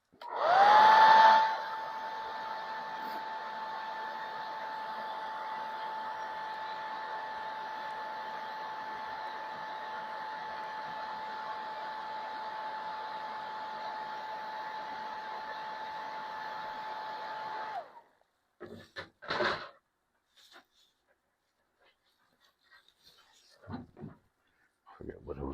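A heat gun or hair dryer blows steadily on a cracked plastic train blow mold, a loud even whir with a constant tone that runs for about seventeen seconds, then cuts off, followed by scattered handling clatter.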